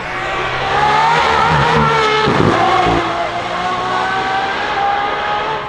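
A hypercar accelerates hard, its engine note climbing loud and close through rising harmonic pitch, with a brief shift-like dip midway before the roar resumes and holds.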